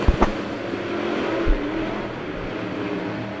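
Dirt track race cars at Monett Motor Speedway accelerate off a green flag heat race start, a broad engine roar holding steady after a couple of brief knocks, with no voice over it.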